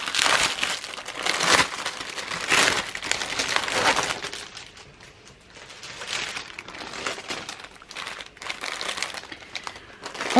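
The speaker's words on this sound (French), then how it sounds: "On va déballer tout de suite." Packaging around a paint-by-numbers canvas is torn and crinkled open nearby in repeated loud bursts of crackling plastic and paper, easing off and then picking up again.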